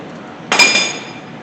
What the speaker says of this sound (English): I like to hit it a few times with a hammer just to tighten it up a little bit.